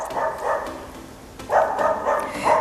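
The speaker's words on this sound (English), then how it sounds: "My neighbor's dog likes to bark like now." A neighbor's dog barks in short bursts a little way off, several barks in two clusters separated by a quiet pause, with no talking over it.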